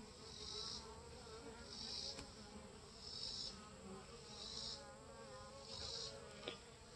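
Honey bees drinking water from seedling trays give off a soft, continuous buzzing hum that swells slightly every second or so, faint and close, with quiet outdoor background and no talk.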